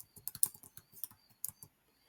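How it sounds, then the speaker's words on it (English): Computer keyboard typing in short bursts of close, crisp key clicks, a few quick strokes at a time with brief pauses between them, while someone enters a search on a Pinterest board. "I'm going to type in Pinterest"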